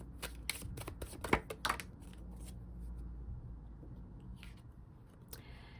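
Tarot cards being shuffled close up, a quick run of crisp riffling snaps that fades into quieter handling and ends with a short soft rustle.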